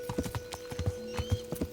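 Horse hooves clip-clop in a steady walking rhythm in the video game Kingdom Come: Deliverance, close and clear, with a faint whinny-like tone underneath.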